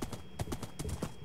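Rhythmic hoof clip-clops from a horse in Minecraft, a steady trotting beat of sharp knocks close by, with no talking.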